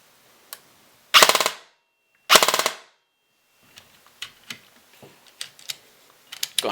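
A SIG Sauer MCX Virtus airsoft electric gun fires two short full-auto bursts, each a rapid buzzing rattle about half a second long, close and loud, followed by scattered light clicks and handling taps.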